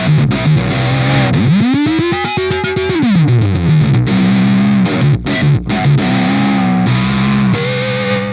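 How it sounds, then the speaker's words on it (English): A heavily distorted electric guitar plays loud, gritty notes, including a sliding bend up and down, with no talking. "everyone's favorite, distortion."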